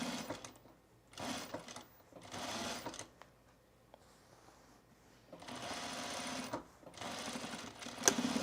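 A sewing machine stitches a button-down shirt being converted into an overshirt, running in several close bursts of steady whirring separated by short pauses and quieter handling noise.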